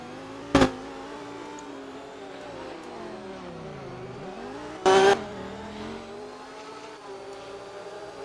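Sports car race cars lap a circuit during a Saturday race, their engines droning steadily at a distance with rising and falling pitch, broken by two short, louder bursts.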